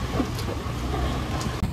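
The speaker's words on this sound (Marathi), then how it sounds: "पाऊस चालूच आहे." Steady rain falls with a dense, constant hiss and low rumble, close and unbroken for a brief stretch.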